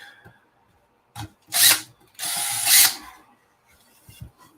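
A power drill whirs in two bursts as it bores through wood, with a short pause between, then quiet scraping and shuffling afterward.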